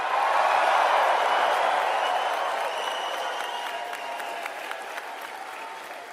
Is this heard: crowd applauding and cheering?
yes